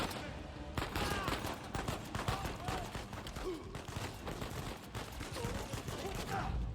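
Rapid gunfire rattles in Uncharted 4: A Thief's End as bullets hit the player, dense bursts of shots throughout with a voice speaking over the combat.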